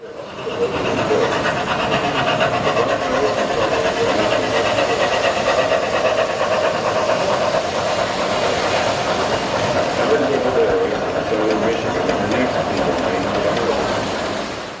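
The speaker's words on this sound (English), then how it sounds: "Here is another video of some of their engines they have running." Model train engines running on a club layout in Roscommon, a steady loud mechanical whir and rattle that carries on without a break, with voices mixed faintly into the hum.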